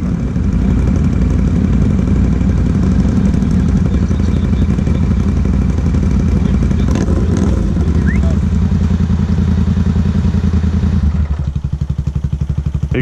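A Honda-engined golf cart runs loud and close with a steady, clattering engine note for most of the clip, and voices talk over it before the sound drops near the end.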